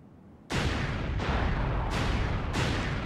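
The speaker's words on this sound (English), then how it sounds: "Didn't you hear all those explosions?" Heavy explosions from bombs going off in the Sonic Adventure 2 video game, three or four booming bursts in quick succession that roll into one another, loud and continuous with no talk.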